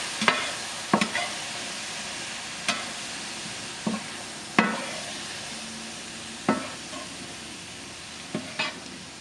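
Ground beef sizzles steadily in a hot pan over medium-high heat with plenty of rendered fat, and a spoon or spatula scrapes and stirs it in sharp, irregular clacks spread through the sizzle.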